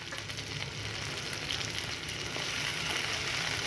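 Cherry tomatoes frying in a pan with basil leaves give off a constant dense sizzle, close and even, with faint stirring and no voices.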